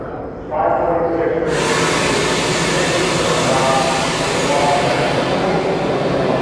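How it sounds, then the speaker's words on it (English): Air brakes release on a commuter train deep below Park Avenue at Grand Central, a loud broadband hiss that starts softly and then surges into a sustained roar. "And they're releasing the air from the air brakes."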